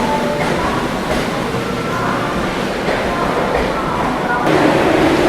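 Brahmaputra Mail express train departing a station: continuous rolling rail rumble and clatter of passing coaches, fairly near and loud, with voices on the platform mixed in.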